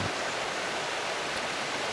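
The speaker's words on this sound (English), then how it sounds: "follow this creek system that's running pretty good into one of the rivers that run through this forest" A creek runs through a forest, filling the air with a steady, broad rushing wash of flowing water that stays even and close throughout, with no voices over it.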